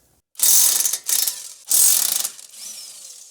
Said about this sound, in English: We'll go ahead and remove these 2 adjusting bolts with a 19mm.